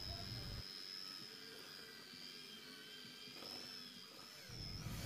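Electric stand mixer kneading bread dough for wool roll bread until smooth and elastic, a steady whirring motor drone running throughout at moderate level with a high whine on top.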